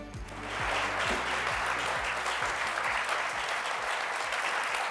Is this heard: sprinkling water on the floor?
no